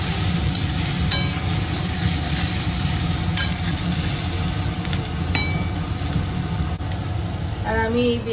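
Oil sizzles steadily in a wok on a home stove, a continuous hissing fry at close range with occasional clinks from the pan.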